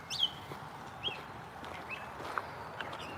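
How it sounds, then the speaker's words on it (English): Birds chirp in short, scattered calls along a valley creek at Valley Forge, a few bright notes rising above a soft, steady outdoor background of moving water and rustle, fairly faint and a little distant. "Hear all those birds."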